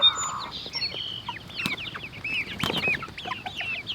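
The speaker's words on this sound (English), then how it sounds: "They're big chickens. They're big breeds." Large-breed hens cluck and chirp in a backyard flock, with overlapping short calls, some wing flapping and a louder cluster of calls near the end, close by.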